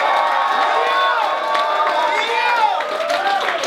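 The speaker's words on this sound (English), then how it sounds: "Let's give both these motherfuckers a goddamn round of applause" Crowd at a rap battle cheers and shouts loudly, with whoops and raised voices over a steady roar of noise and some scattered clapping.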